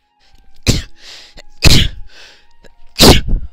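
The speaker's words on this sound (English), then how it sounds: "I had to sneeze and let's just say it didn't sound good" Three loud, close sneezes burst out about a second apart, each a sharp explosive blast with a softer breathy tail in between.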